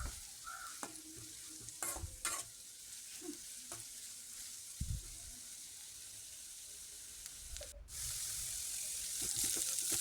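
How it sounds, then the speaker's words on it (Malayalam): Onion half-sautéed in a pan for a squid roast gives a soft, low sizzle with scattered stirring clicks and scrapes, and a broader hiss swelling up near the end. "ഇപ്പോൾ സവാള ഒരു പകുതി വഴമൊക്കെ ആയിട്ടുണ്ട്."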